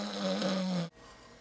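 A sleeping man snoring: one long, loud, rasping breath that cuts off abruptly into near quiet.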